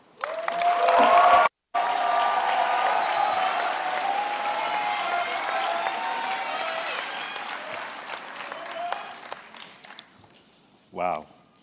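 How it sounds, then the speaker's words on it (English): Sustained audience applause at a university commencement ceremony, a dense roomful of clapping with scattered cheers and voices, broken by a brief cut, then fading over the last seconds. "Can we please give one more round of applause for our graduating class"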